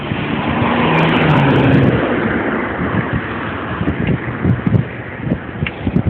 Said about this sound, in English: there is wind, and even though I'm going very slow, trees aren't brushing or anything, there is still a good amount of wind for me